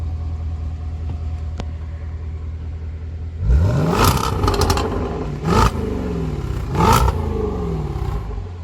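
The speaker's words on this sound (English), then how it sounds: "you all can hear the exhaust right quick" A 2020 Jaguar F-Pace SVR with a supercharged 5.0 V8 idles with a low rumble, then its exhaust blares through three sharp, loud revs, each rising and falling back with crackle, heard close and alone.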